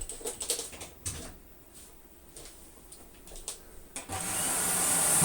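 A vacuum cleaner switches on near the end after a few light clicks and handling ticks, then roars loudly and steadily with a strong broadband rush at full suction.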